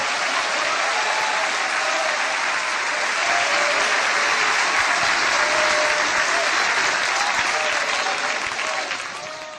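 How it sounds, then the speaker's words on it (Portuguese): A Pentecostal church congregation bursts into loud, sustained applause, a dense wash of many clapping hands that holds steady for several seconds and fades slightly at the end. "Glória a Deus com palmas"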